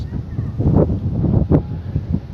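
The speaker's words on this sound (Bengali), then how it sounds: "কি সুন্দর বাতাস" Wind sweeps across open village countryside in gusts, making a low buffeting rumble close to the microphone that swells and fades in short bursts.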